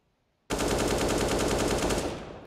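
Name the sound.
gunfire in the video game Counter-Strike on Dust2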